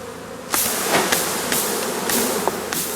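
A clustered swarm of honeybees hangs on a branch, filling the air with a dense, close buzzing drone broken by several sharp knocks as the branch is struck.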